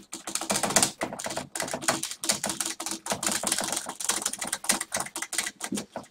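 Rapid, irregular typing on a computer keyboard, a steady stream of close, sharp key clicks lasting the whole stretch with no voices.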